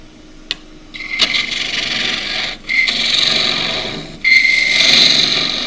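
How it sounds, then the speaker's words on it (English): Half-inch spindle gouge hollowing a Himalayan cedar goblet on a wood lathe, close, loud scraping cuts in three sustained passes with brief pauses between, each a steady rasping hiss with a bright whine. "I shall be back hollowing using a 1/2 inch spindle gouge."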